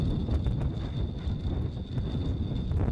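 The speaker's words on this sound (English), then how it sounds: "it's about, look at that, 17-20 kilometers hour wind" Strong wind of about 17-20 km/h buffets the microphone outdoors during a .22 air rifle hunting outing, a steady low rumbling roar that continues without a break throughout and with no talking.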